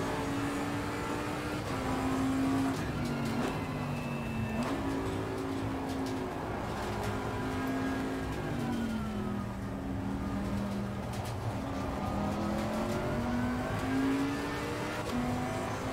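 A GT race car engine in Assetto Corsa Competizione drones steadily at close range, its pitch rising and falling through gear changes and throttle lifts as the car laps the track, with no talking.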